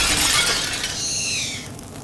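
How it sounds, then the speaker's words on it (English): A glass panel shatters when shot in the video game The Fall, a loud burst of breaking glass that fades into a ringing, tinkling decay. "And here we have a glass panel that we can shoot."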